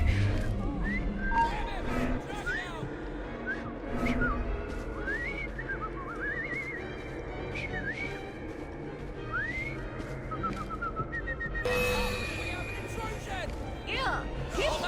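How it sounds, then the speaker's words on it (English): A character in Assassin's Creed Syndicate whistles a string of short rising and falling notes, fairly close, over a steady bed of city ambience and carriage noise, with a brief burst of clatter near the end. "I've just learned to whistle."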